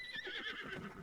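A horse neighs and whinnies in Zelda: Tears of the Kingdom, a short, bright call lasting about a second with faint hoof clatter beneath it.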